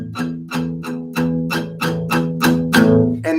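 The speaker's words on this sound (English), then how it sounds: "It's called palm muting." Palm-muted electric guitar strings picked in a steady rhythm, about nine short, chunky muted notes spaced evenly, each dampened quickly with a thumpy attack, played alone and close with no talk.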